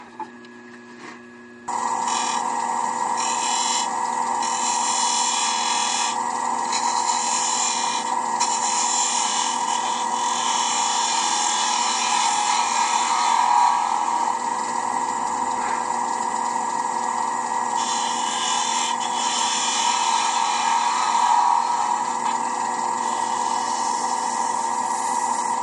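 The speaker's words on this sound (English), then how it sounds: "I'll go back to that 1/4 inch spindle gouge" A wood lathe spins a mahogany box while a 1/4 inch spindle gouge makes very light cuts to dress the end, giving a steady close motor whine with a scraping, hissing cutting texture that holds throughout.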